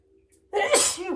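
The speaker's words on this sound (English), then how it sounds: "Just sneeze." One sharp, loud human sneeze bursts out close to the microphone after a brief quiet moment, with a short breathy trailing release.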